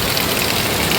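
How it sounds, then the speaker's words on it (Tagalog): Heavy storm rain pours down in a steady, loud, dense hiss, with no voices over it. "Tingnan yung ulan."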